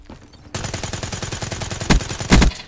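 Razorback SMG from Black Ops 3 firing a long rapid burst of gunshots in close multiplayer combat, with two heavier booming impacts near the end and no talk.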